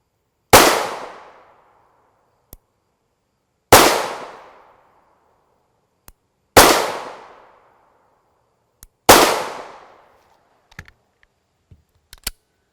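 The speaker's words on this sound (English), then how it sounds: "We're only going to run 5 rounds through each barrel length" A 9x19mm pistol fires 77-grain copper expanding hollow-point rounds into ballistic gel. Four loud, sharp shots come at steady intervals of about three seconds, each ringing out in a decaying tail, with faint clicks and light handling noises between them.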